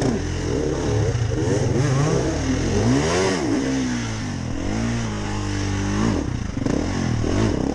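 Adventure motorcycle engines revving at the Erzberg Rodeo off-road event, loud and close with rising and falling whines as throttles open, several engines overlapping.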